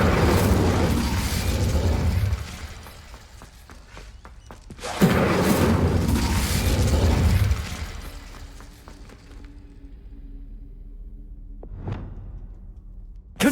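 Incendio fire spell cast in the video game Hogwarts Legacy, heard as two loud, roaring bursts a few seconds apart. Each burst fades into a quieter, lingering hum, and there is a brief sharp sweep near the end.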